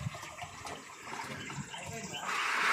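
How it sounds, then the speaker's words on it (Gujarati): Water from a coin-operated village tap starts gushing as a steady, loud rush near the end, after a stretch of background noise with voices nearby. "હવે પાણી આવ્યું શીકો નાખો ને તો જ પાણી આવે ભાઈ અહીંયા"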